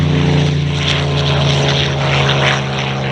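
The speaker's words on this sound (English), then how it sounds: "On takeoff roll from the left, ladies and gentlemen, is the P-63" P-63 KingCobra propeller fighter plane on its takeoff roll at the Wings Over Houston airshow, a loud steady piston-engine drone with strong propeller hum, close and continuous.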